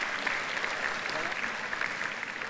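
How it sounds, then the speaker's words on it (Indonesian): Audience applause in a conference hall at the closing plenary of a climate event, a dense steady clapping that fills the whole stretch. "Sekali lagi berikan tepuk tangan apresiasi"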